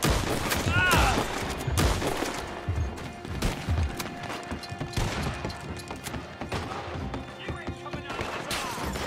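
Sustained gunfire in a Red Dead Redemption 2 firefight, with repeated shots and bursts that fit a machine gun, heard under someone talking over the action.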